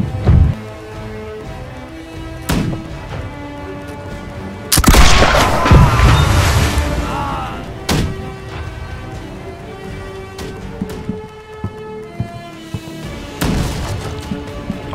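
Ship cannons booming on the port side during a pirate naval battle in Blackwake, one massive blast followed by several sharper, scattered shots and crashes, loud and close over a steady low rumble.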